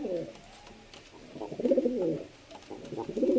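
Madrasi pigeons coo softly in a loft, low rolling calls repeating in overlapping waves, fairly quiet and close.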